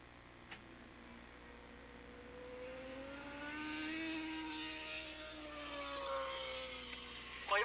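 Racing motorcycles at Willow Springs raceway in a 1987 Formula race sweep past into turn one, several engine whines rising and falling in overlapping pitches, distant and faint at first and swelling briefly louder as they pass.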